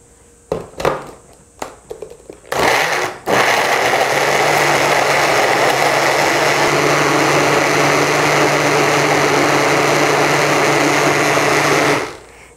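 A blender grinds tomato naengmyeon ingredients with water. A few clicks and short bursts come first, then the motor roars steadily and loudly for about ten seconds before cutting off.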